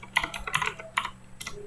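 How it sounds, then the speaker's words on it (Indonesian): Keys tapped on a computer keyboard while an IP address is entered into network settings on a Windows PC: quick, uneven clusters of crisp clicks, close and clear, with no voices. "Kita ketikkan di sini."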